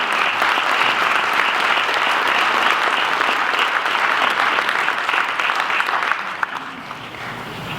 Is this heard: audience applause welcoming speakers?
yes